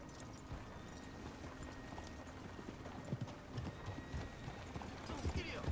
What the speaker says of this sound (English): We'll just whistle for our horses and stand here.